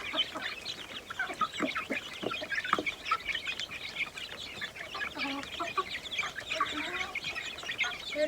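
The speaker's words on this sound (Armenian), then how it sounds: "Հավերի մի քիչ եմ տալի։" Hens cluck and chatter in a lively flock while being fed, a continuous patter of short calls at moderate distance with no talk over them.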